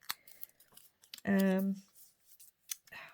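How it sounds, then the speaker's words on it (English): A quick snip of scissors amid soft handling noises, with a short burst of speech in the middle. "I'm going to just snip a little bit"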